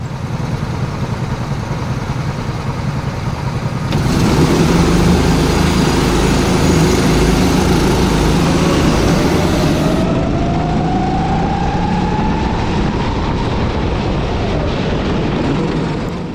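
A racing kart engine at the Kart'Expo track in Nantes, droning loudly and steadily on the starting grid, rising in strength after a few seconds with a faint rising whine from another engine.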